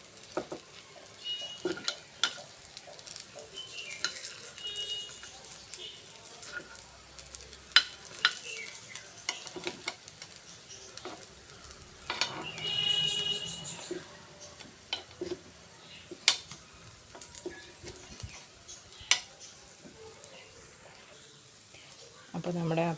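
Appam made from idli batter fries in a pan and is turned over, giving a faint, soft sizzle with occasional utensil clicks and scrapes, while a voice talks quietly.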